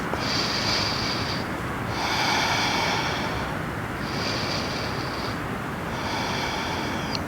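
Deep breaths during a spring equinox yoga flow: four slow, airy breath sounds, each lasting about a second and a half with short pauses between, close to the microphone and with no talking.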